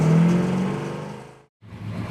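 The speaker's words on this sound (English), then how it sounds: "I'm gonna wait to do my talking until this thing's off because it's got such a nice exhaust sound" A 1966 Chevrolet Chevelle engine idles loudly with a deep, rumbling exhaust, then abruptly cuts off and briefly restarts.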